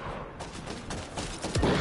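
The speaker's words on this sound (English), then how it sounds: "So the fire rate on that gun is ass." Rapid bursts of gunfire from a weapon in the Fortnite video game, a steady crackle of shots running through the whole clip and growing louder toward the end.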